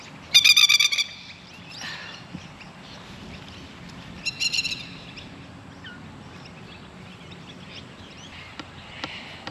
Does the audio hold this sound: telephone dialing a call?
no